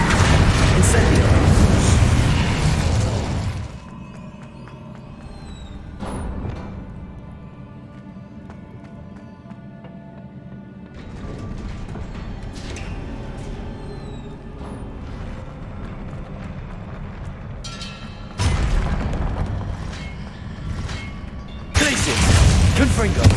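Spell blasts and explosions from the Hogwarts Legacy video game during a trial battle with Charles Rookwood: loud booming bursts open and close the stretch, with quieter crackling and ringing magical effects and rumbles between.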